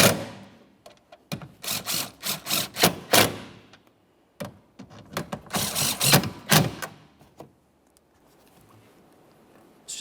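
Mounting nuts are run onto the tail light studs inside the trunk of a 2014-2019 Toyota Corolla, giving bursts of rapid ratcheting clicks in clusters with short pauses between.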